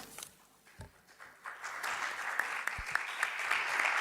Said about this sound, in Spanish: Ahora sí viene el aplauso conjunto a todos los que han intervenido